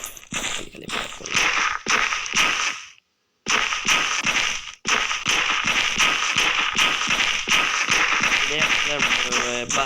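Rapid bursts of gunfire in the battle-royale shooter Free Fire crackle loudly and steadily, one sharp report after another with a short pause near the start; a game chime rings near the end.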